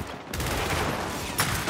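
Gears of War 5 gunfire from a newly bought gun: a fast, continuous volley of loud shots rattling without pause, with a brief gap near the start and a sharper burst late on, no voices.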